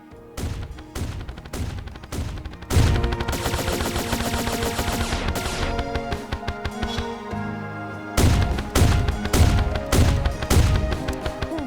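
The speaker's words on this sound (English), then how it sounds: "Fires a plasma blast that explodes. Right click to rapidly fire plasma bolts." Plasma bolts fire from an Agile Plasma Rifle, a magic weapon in the game Terraria, in bursts of rapid sharp blasts with one sustained stretch of continuous fire, loud and without talk.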